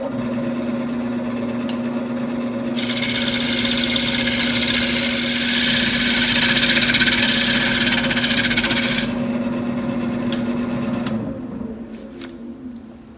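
A roughing gouge cutting wood on a spinning lathe, a steady hiss of shaving rising over the constant motor hum for several seconds, then fading back to the machine running alone, close and loud.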